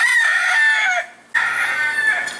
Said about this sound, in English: The roosters are everywhere.